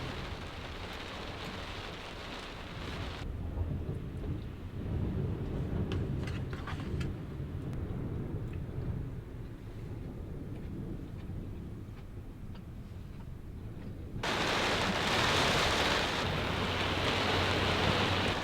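Heavy rain pounds steadily on a truck during a strong storm while camping, a dense, close roar that briefly softens and then surges louder, with faint low rumbles of thunder mixed into the wash.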